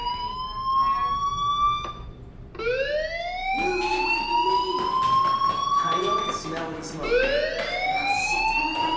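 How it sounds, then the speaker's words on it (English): A school fire alarm in the video game Life Is Strange wails in repeated rising electronic sweeps, loud and steady, each cycle gliding upward in pitch before restarting. "do you hear that fire alarm? That means you should be outside."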